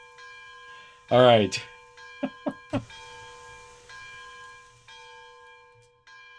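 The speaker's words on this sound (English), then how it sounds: "we're going to turn off that bell" A locomotive bell in the Railroads Online train game clangs loudly a few times, followed by several quicker, fainter strikes over a steady mechanical hum, with a brief spoken word nearby.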